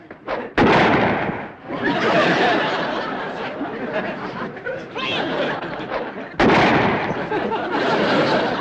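Two sudden, loud gun blasts in a 1960s sitcom scene, the first after a brief pause and the second near the end, each trailing into a long stretch of noisy rumble.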